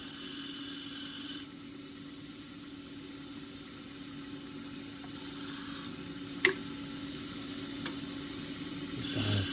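Hard Tasmanian horizontal scrub wood is peeled down on a lathe for a bark box lid, a steady soft rasping scrape over motor hum, with brief bursts of louder cutting and a few sharp ticks.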